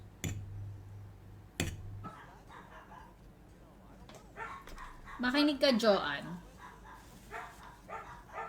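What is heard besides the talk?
dogs barking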